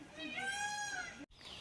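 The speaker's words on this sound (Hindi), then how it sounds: "अभी मोर की आवाज आ रही थी खेत से।" A peacock calls from a field on a rainy day, a faint, distant, drawn-out wailing cry with a high tonal quality, heard alone against soft background ambience.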